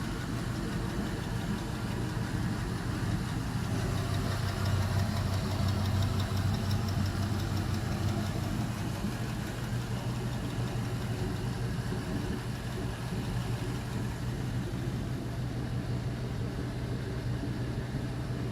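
An LM7 5.3L V8 engine on a test run, idling steadily with a smooth, even low rumble that stays constant throughout, close by and without talk over it.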